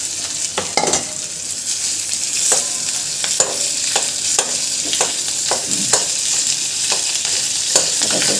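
A small amount of onion and green chili fries in a pan, steady bright sizzling close up, punctuated by regular sharp spatula clacks against the metal, with no talking.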